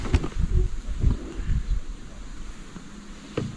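Wind gusting at a reed-fringed fishing spot, low rumbling buffets on the microphone that are strongest early and then ease to a quieter hiss, with a faint rustle, and no talk.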